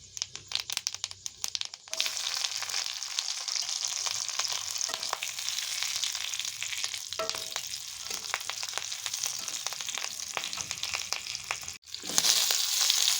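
Fennel seeds and green chillies frying in melted ghee make a dense, crackling sizzle with popping spatters, starting sharp and irregular, then settling into a steady hiss, briefly cut off near the end before resuming loudly.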